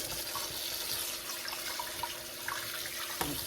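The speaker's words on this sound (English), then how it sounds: "Go ahead and run some cold water over it just to stop it from cooking." Cold tap water runs steadily over freshly drained tortellini in a kitchen sink, a continuous hissing splash at moderate loudness with no talking over it.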